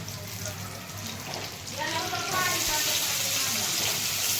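Stuffed village-style brinjals go into hot oil with fried garlic-coconut paste, and a steady sizzle swells and holds as they land, close and continuous, with a voice talking over it.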